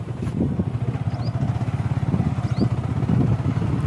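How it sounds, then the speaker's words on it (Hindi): A Bajaj Platina motorcycle riding over a rough off-road track, its low engine chugging in a steady throbbing pulse with rattling clatter from the bike, loud and close throughout. "ये अपना प्लैटिना आगे निकलते हुए आगे रोड खराब है बाटा ऑफ ऑफ रोड आ गई"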